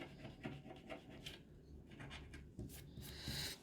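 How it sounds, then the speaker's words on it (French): Monopoly scratch cards being scratched, a quiet, close scraping and rubbing in short irregular strokes, faint and without talk. "je vais gratter toutes les cartes de la première lignée"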